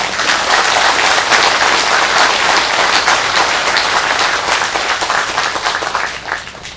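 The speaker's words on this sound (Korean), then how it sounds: "큰 박수합니다." Audience applause during a Buddhist dharma talk at a Korean Jogye Order temple's New Year all-night practice, a loud, full burst of many people clapping that holds steady and then tapers off toward the end.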